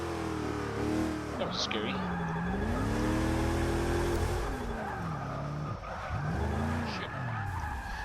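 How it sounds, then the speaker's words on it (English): A GMC Vandura van drifts in the racing game Forza 6, its engine droning and tires squealing in long sliding skids as it revs and swings, while someone talks over it. "We got suicide drifting right now."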